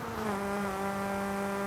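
A stock car engine in Forza Horizon 5 whines at a steady high pitch, a sustained buzzing drone with clear harmonic tones and no talking.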